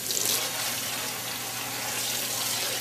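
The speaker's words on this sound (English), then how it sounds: "So we're just going to wash it here in the sink." Tap water pours steadily into a sink as parts of a Tamiya TB04 LaFerrari RC car are washed with Dawn dish detergent before painting, a close, even rushing hiss with no talk.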